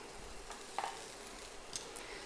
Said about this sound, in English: they should just gently pop, move them around a bit in the oil